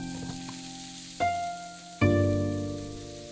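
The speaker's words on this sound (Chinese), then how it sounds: "接着下入全部蔬菜翻炒" Lotus root, shiitake, konjac and taro tumble into a hot pan where chicken was just browned. Two sharp sizzling bursts erupt as the vegetables land, each fading into a steady frying hiss, close and loud without speech.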